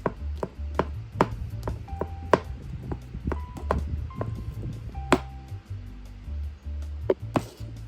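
A knife chops mozzarella into small pieces on a board, giving a quick irregular series of sharp close taps and thuds, alone without speech.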